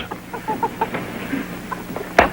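Several soft hen clucks spaced through a quiet indoor room, ending with a louder, sharper squawk near the close.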